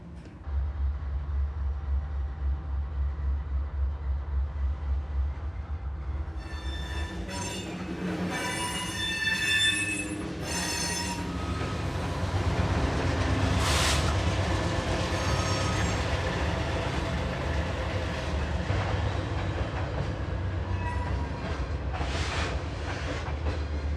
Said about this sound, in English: this train is still on the main